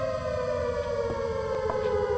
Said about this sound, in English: so that's why the siren was playing!